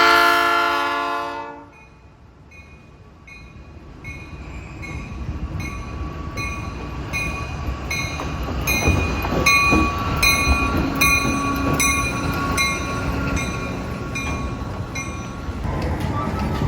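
A passenger train's horn blares loudly for a couple of seconds, then rumbling rail cars roll past with clanking and screeching, continuing throughout.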